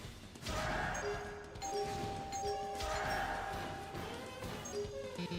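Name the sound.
doorbell ringing sound effect from video game Sonic Unleashed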